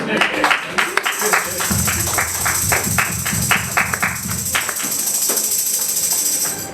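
Members of a church congregation clap in a quick, uneven patter during a sermon, the sharp claps carrying over a steady background of voices and room noise.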